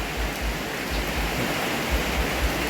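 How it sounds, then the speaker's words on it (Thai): Heavy rain falls steadily outside a house, a dense, even hiss that fills the whole clip, with faint low thumps underneath and no voices. "ฝนตกพี่น้องเลยเนาะ"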